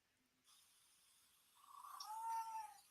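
A recorded cat meow, captured from a pet cat and played back through a pet translation app, rises faint and thin out of quiet room tone in the second half, a single drawn-out call.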